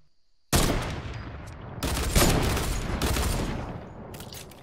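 Gunfire in a battle royale video game arrives in loud, dense bursts of rapid shots. A sudden opening volley is followed by further sustained rattling salvos, close and continuous for several seconds.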